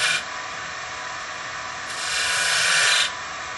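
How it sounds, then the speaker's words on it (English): A small detail skew chisel cutting wood on a spinning lathe, a steady close hissing scrape that swells louder for about a second near the end before dropping back, with no talking. "I like to take a small detail skew, and so that way I can make a real crisp line"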